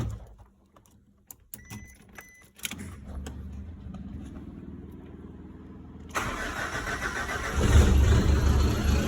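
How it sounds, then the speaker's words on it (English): A Gen 2 Mitsubishi Pajero engine cranks and starts after a few faint clicks and rattles, then settles into a steady idle before revving louder near the end, heard close up with no talking. "So let's start the car, put some vacuum on it, and see if it's working."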